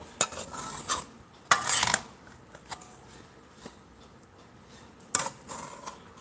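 Mango pachadi (pickle) being mixed in a pot, with a few sharp scraping and clinking strokes of the spoon against the pot separated by quiet gaps, close and moderately loud.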